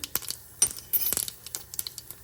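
Mustard seeds splutter in hot oil while tempering for a coconut chutney. Close, sharp pops and crackles come in irregular bursts over a quiet background.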